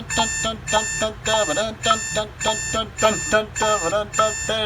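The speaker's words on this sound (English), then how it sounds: "the alarm! Roll out of bed!" A repeating electronic alarm sample used in music production pulses in a steady rhythm of regular tonal bursts, loud and alone, looping about twice per second.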